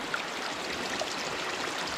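Spring water flows out from under a rock at the foot of a mountain in the countryside, a steady soft trickling and babbling stream that continues evenly throughout.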